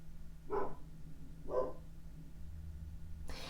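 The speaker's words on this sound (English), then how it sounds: "Sorry, my dogs are barking." Two short dog barks a second apart, moderately distant, then a brief noise at the end over a low background hum.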